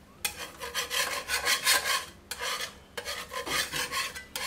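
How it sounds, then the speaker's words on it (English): A scraper rasps dirt and grease off the stainless-steel-coated aluminium plate of a contact grill in long, close, harsh strokes, with two brief pauses between passes and no voices. "Removing dirt and grease is as simple as scraping down."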